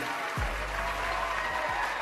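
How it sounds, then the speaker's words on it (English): Brief applause and cheers from an awards-show audience at the BBMAs greet a rapper, a soft, even clatter of clapping heard at a distance for a couple of seconds. "he was met with cheers and applause"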